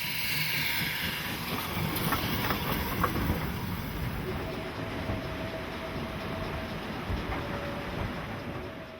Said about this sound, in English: Chartered trains such as this one on the Fulka Steam Railroad are always one of the main attractions.